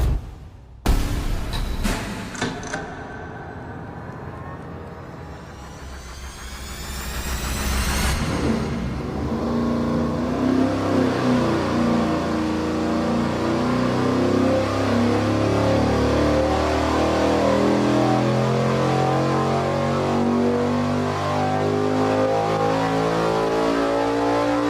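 A high-power race engine on a dyno fires up, idles briefly, then revs hard in one long sweep toward 7,000 RPM, loud and close with a roaring, rising tone and no talk.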